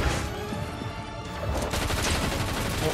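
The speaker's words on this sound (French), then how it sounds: "Pourquoi on tire des roquettes" Rockets fire in a video game, a dense run of sharp blasts and crackling bursts that rise to a louder, busier barrage partway through, with no speech.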